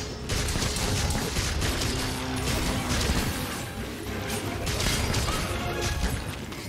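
Gritty, rhythmic scraping strokes repeat steadily as a whetstone sharpens a Switch Axe in Monster Hunter Rise, loud and close over a dense, busy background.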